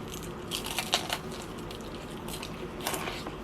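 Several crisp crunchy bites into takeaway fried chicken, close up, in short bursts with quiet chewing between them.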